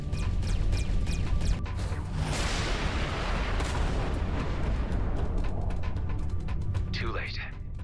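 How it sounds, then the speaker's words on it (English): Artillery fire in the space game Everspace 2: a few sharp shots at the start give way to a long, loud roaring boom that rumbles and slowly fades, with faint speech near the end. "I love how the artillery is still shooting at an empty."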